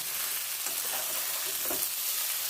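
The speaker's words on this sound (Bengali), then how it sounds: "এটা পেঁয়াজ দিয়ে, তেল দিয়ে, সর্ষের তেল দিয়ে, একটু তেলটা বেশি লেগেছে, এই আলুগুলো এত বড় রেখেছি, করে খুব কষা কষা করে ভাজছি।" Large potato chunks frying in mustard oil with onion, a steady close sizzle and crackle that hardly varies in level, with faint stirring and no talking.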